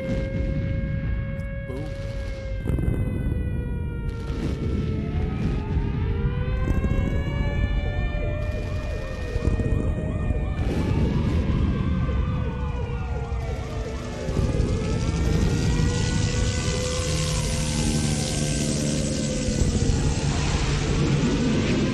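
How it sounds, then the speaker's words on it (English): Wailing sirens rise and fall in overlapping sweeps over a low rumble in the intro of a track, a loud, continuous war-like soundscape. "Sirens, helicopters, gunshots, explosions."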